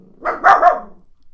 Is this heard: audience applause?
no